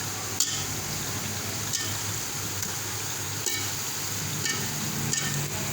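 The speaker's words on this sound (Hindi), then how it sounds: "बिरयानी के लिए जो मैंने सालन बना रही हूँ उसको भून रही हूँ अच्छी तरीके से।" Biryani salan with peanuts fries in a pan under a steady, close sizzle, with scraping stirs and clinks of the spoon every second or so.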